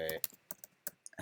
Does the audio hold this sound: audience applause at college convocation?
no